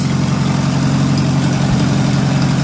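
A Farmall tractor's gasoline engine with a carburetor needing adjustment idles steadily and loudly up close, a continuous low rumble with no talk.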